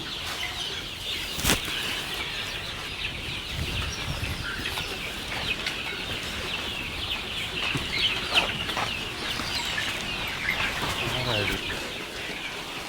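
Chickens cluck on a large poultry farm in Batticaloa, Sri Lanka, with scattered clucks, some wing flapping and a sharp knock or two over a steady hum of background noise, fairly faint overall.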